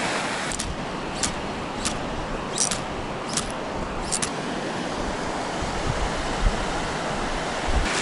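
Water flows steadily over a winter river overflow at an ice fishing spot, a broad continuous rush with a few faint clicks and knocks on top and no voices.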